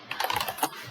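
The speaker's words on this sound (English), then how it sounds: "So now, for example, I type clear, right?" Quick typing on a computer keyboard at a Linux terminal: a short, brisk run of close keystrokes under a second long, with no talking.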